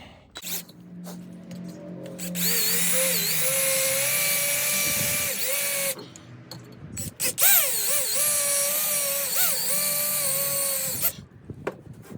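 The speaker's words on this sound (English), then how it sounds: "Got those 6 spot welds drilled." A power drill whines loudly in long sustained bursts, pitch shifting as it bites into metal while drilling out spot welds on a car muffler, with brief pauses between runs.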